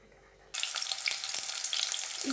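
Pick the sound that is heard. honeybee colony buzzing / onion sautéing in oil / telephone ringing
onion sautéing in oil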